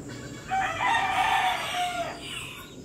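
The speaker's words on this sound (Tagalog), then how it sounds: "Yung mga manok natin." A rooster crows once in a long drawn-out call among farm chickens, fairly close and clear over a faint outdoor background.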